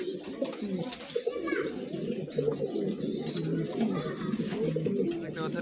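A pair of large red Shirazi pigeons coo steadily in soft, throaty rolls close by, while someone talks throughout over the birds.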